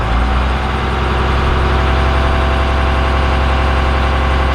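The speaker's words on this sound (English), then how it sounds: "Rev it up a little bit." A Cummins diesel pickup engine runs loud and close, a heavy low rumble with a throbbing pulse that rises slightly as it is revved, with no talk over it.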